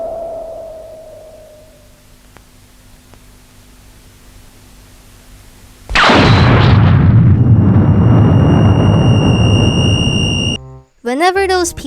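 Bomb released and exploding, a sudden loud roaring blast of broadband noise that lingers for several seconds before cutting off, preceded by a quiet hum.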